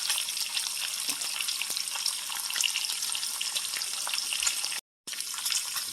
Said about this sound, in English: Get in there and go slow. Best way to cook the bacon. Not too hot.